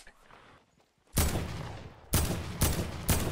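Video game gunfire: after a near-silent stretch, a loud, sudden volley erupts, then three more sharp bursts follow in quick succession, each ringing briefly before the next.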